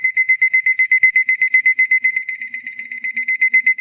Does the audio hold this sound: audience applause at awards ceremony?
no